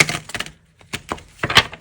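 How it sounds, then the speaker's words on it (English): Short bursts of crisp tarot card shuffling, a few quick riffles separated by brief pauses. "Two more shuffles. Okay, one more shuffle."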